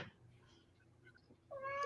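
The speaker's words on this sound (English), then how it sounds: "That's a cat." A cat meows close by in an otherwise quiet room, a single drawn-out, rising cry that starts near the end after a stretch of faint background hum.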